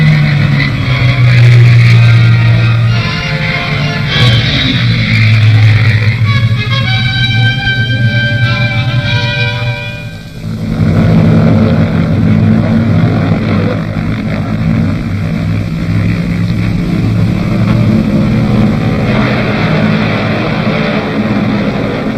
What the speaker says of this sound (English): It's a Spitfire.